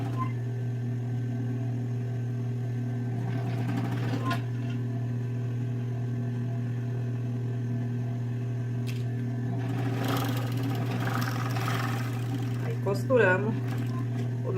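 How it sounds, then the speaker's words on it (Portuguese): Sewing machine stitching the waistband of a flared skirt, a steady mechanical hum running throughout with faint clicks, while someone talks. "Costuramos o nosso cos."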